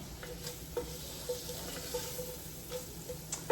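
Vegetables cooking in a pan over medium-high heat for bison lasagna, a steady soft sizzle with occasional light stirring clinks, close and fairly quiet, no talking.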